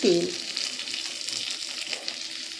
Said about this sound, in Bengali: তেলটা দিয়ে মশলাটাকে একটু ভালো করে নাড়াচাড়া করে কষিয়ে নেব টমেটোর সঙ্গে।